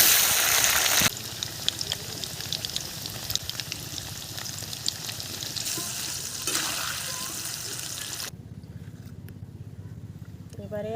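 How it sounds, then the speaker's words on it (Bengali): Potatoes fry in hot oil in a wok, giving a loud, dense, crackling sizzle up close that holds steady, then softens somewhat toward the end. "এখন আমি তেলটা দিয়ে দিচ্ছি কড়ায়। আলুগুলো ভেজে নেব।"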